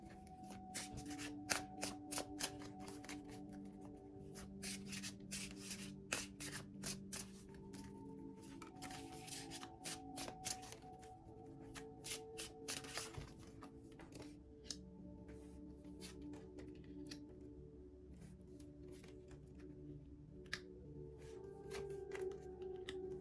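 Tarot and oracle cards are shuffled by hand in a quiet room, with a continuous run of soft riffling, slapping and sliding card sounds, close and fairly faint, with no talking.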